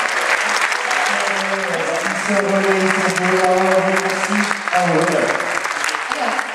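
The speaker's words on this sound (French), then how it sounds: "On applaudit. Très fort," Loud, sustained audience applause fills a French hall as a care team for deaf patients is honored, with a speaker's voice running over the clapping throughout.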